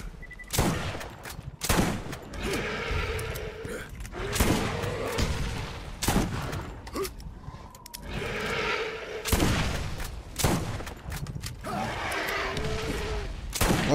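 Rocket launcher blasts and bursts of gunfire from the video game Borderlands, with repeated loud booms and rapid shots through a boss fight, separated by short gaps.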